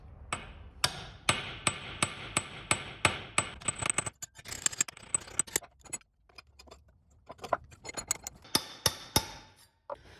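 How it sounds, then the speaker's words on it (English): Sharp hammer blows rivet the post of a hand-forged padlock, a close, fast series of ringing metallic strikes in bursts with short pauses between them, some taps lighter than others. "The post fits, so I'm gonna rivet this and try to get this stuck."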